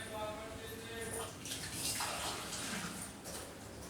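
Water pouring and splashing across kitchen tiles during cleaning, a steady wash of running water with scattered drips, fairly close.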